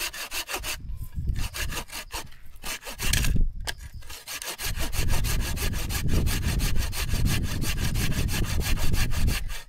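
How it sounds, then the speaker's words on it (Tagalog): A hand saw rasps through a solid piece of firewood at a remote mountain campsite, with quick uneven strokes at first, then a long run of steady rhythmic back-and-forth cuts, close and loud with no talk. "Mahirap nga lang lagariin, matagal. Pero maganda pang gatong ito."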